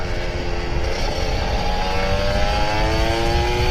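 A stock Kawasaki Ninja RR motorcycle engine drones steadily with a high buzzing two-stroke tone that shifts slightly in pitch, close and continuous throughout.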